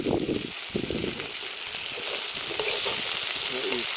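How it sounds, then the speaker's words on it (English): Food frying in a cast iron pan over a campfire sizzles steadily while a utensil stirs it in short scraping strokes, close and moderately loud with no talking. "We're just going to stir that side a little bit more"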